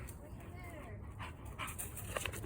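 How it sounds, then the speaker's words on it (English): A hyper dog pants and scurries around nearby, its breathing and movement rustling steadily through the clip with a few faint whimpers, while a person talks over it. "I'm trying to watch out for my dog."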